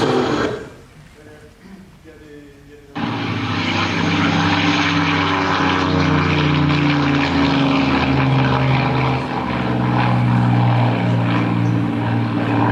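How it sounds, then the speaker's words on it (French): Piston aircraft engine, one of four recordings including a Rolls-Royce, droning loud and steady with a strong low propeller hum after a quieter opening stretch. "Donc voilà 4 extraits de 4 moteurs à piston, dont dans ces 4 extraits, il y en a un, effectivement, qui est un Rolls-Royce."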